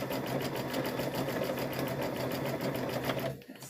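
Sewing machine stitching fabric for a trick-or-treat bag, a close, rapid, even mechanical whir of the needle running steadily, then stopping abruptly at the end.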